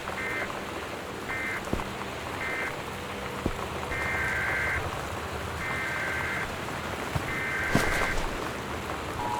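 Steady rain pours in the Gone Home game, a dense wash of drops with occasional sharper taps, heard alone without voices.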